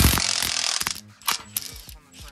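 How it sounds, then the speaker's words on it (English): A Milwaukee 3/8 inch impact wrench rattles off an exhaust nut on a Citroen C1 during a catalytic converter swap, with a burst of hammering followed by a few short, sharper bursts. "little Milwaukee 3/8 impact"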